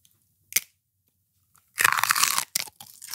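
Celery crunched as a guessing-game food item: one sharp bite, then a burst of loud close crunching and a few shorter chews.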